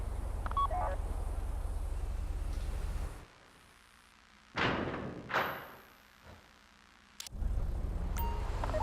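A phone dials to open the bank vault during the Fleeca Job heist in GTA 5 Online, with short tones over a steady game hum, then a quiet gap broken by several dull thuds and a sharp click.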